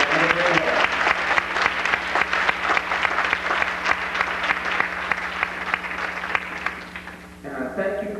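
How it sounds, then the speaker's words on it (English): Banquet guests at a high school gospel choir's 20th anniversary dinner applaud loudly and steadily for several seconds, the dense clapping thinning and stopping near the end as a voice resumes. "So please give all of yourselves one more applause."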